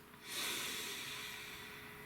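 A single deep breath drawn in close to the listener: a soft, rushing inhale that swells quickly, then slowly fades over about two seconds, quiet and alone.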